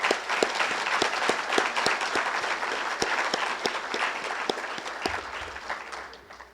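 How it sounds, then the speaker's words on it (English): A graduation audience applauds for officials with a steady wash of clapping, individual nearby claps standing out sharply against the crowd, moderately quiet and fading slightly at the end. "Please give all these officials a round of applause."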